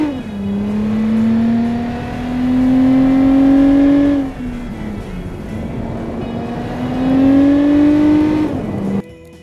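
A car engine in the game Automation revs up and eases off on a test track in two long sweeping cycles, pitch climbing then dropping, loud and close with no talking.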